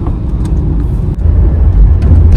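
Heavy road traffic on a Delhi road heard from inside a car, a loud continuous rumble of engines and passing vehicles with a steady low drone.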